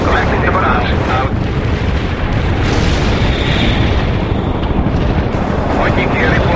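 Artillery barrage explosions in the World in Conflict video game, a continuous loud rumble of booms and blasts filling the whole stretch with little pause, under a radio-style voice.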